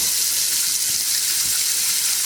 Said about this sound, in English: we're just going to go ahead and dump the rest into the strainer.